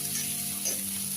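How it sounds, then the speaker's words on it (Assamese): Onions frying in rendered pork fat over high heat, a steady close sizzle with a constant background hum and no voices. "পিঁয়াজখিনি দিয়াৰ পাছত আমি পিঁয়াজখিনি ৰঙচুৱা হোৱালৈকে ভাজি থাকিম।"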